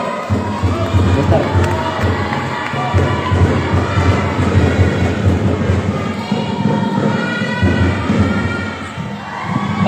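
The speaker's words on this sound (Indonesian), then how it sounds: "Tepuk tangan." Audience at a Qur'anic recitation audition at an Islamic boarding school (pesantren) breaks into loud, continuous cheering and clapping, with shouting voices and thuds filling the whole stretch.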